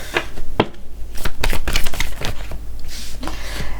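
Tarot cards are shuffled close up in a continuous flurry of loud riffling and slapping, with no one talking.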